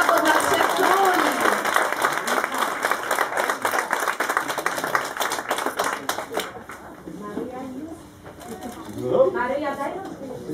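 Applause for the three kings in a kindergarten nativity play: dense clapping from the audience rings out for about six seconds, then fades into quieter room noise and voices.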